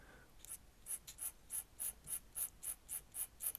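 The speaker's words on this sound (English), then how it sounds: "it's easier for me to draw with a pen nib." Pen nib scratching ink lines across paper in a steady run of about a dozen short, even strokes, close and quiet, with no talking.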